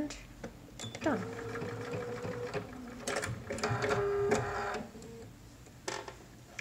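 Short bursts of a sewing machine stitching a pleat in a cotton face mask whir and chatter at close range, separated by pauses, while a voice talks over parts of the sewing.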